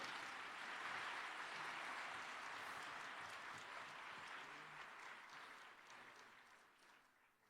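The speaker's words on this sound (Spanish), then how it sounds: "Y un aplauso, por favor." Audience applause at the close of a lecture at a pediatric rare-disease medical conference, a steady broadband clatter of many hands that holds for several seconds and then gradually fades toward the end.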